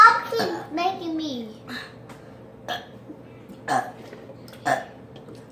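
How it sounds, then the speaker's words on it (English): A child lets out a long, drawn-out burp with a wavering pitch, followed by a few short throaty sounds and clicks. Speech is heard around it. "I think that's like the longest burp I can do."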